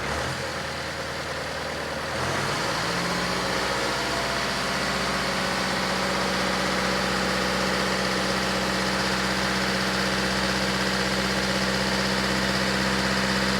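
A 2013 Vauxhall Insignia 2.0 CDTi diesel with a sticking turbo idles and then rises into a sustained higher rev with a steady drone and strong vibration, loud and close, without talk.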